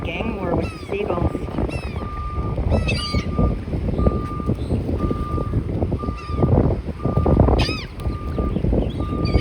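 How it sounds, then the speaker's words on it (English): Seagulls squabble at a seafood spot in Mayport, their harsh calls and squawks rising in bursts over a busy outdoor scene, with a repeating reversing beep, engine noise and people talking nearby. "Having a gang war with the seagulls."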